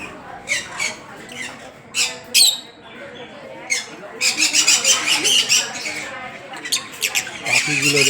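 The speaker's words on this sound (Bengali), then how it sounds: "পাখিগুলো দেখুন কিচিমিচি করছে এই মন্দিরে।" Birds squawking and chirping at a temple during a festival, sharp raspy calls in bursts that grow busier and more layered toward the end, fairly close, with a person talking among them.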